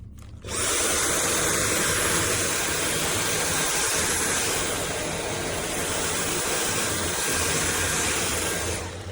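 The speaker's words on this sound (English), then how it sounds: "This is a review of the Dyson V8 Animal Vacuum." A Dyson V8 Animal cordless vacuum cleaner starts up and runs with a loud, steady high-pitched whine and airy rush, close and unbroken for several seconds.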